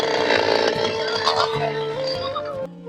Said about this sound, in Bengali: দেখতে পাচ্ছেন এই এই মেশিনটির দ্বারাই আমাদের এই গাছগুলো খুব সহজেই আমরা কর্তন করে